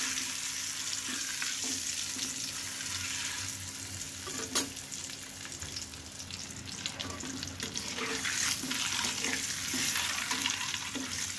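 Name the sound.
boiled eggs frying with turmeric in oil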